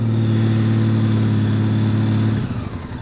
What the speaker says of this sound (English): Wow, you see those revs? It's pretty vicious, man.